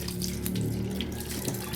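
Water flows from a newly built deep well with a steady, close gushing splash that runs without pause.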